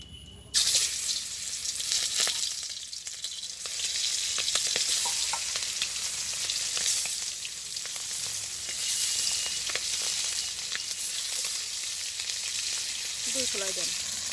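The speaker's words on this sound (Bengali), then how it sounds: "এখন আমরা মাছটা ভাজি করে নেব" Fish frying in hot oil in a village kitchen, a dense, steady sizzle running close and loud from start to finish, with small crackles and pops scattered throughout and no talking over it.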